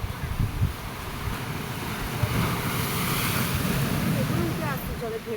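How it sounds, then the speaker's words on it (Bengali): Strong waves roll in on open water, a broad continuous rushing wash mixed with heavy wind buffeting the microphone, building steadily rather than breaking in distinct crashes. "হ্যাঁ, এই আসতে জোরে ঢেউগুলো আসছে।"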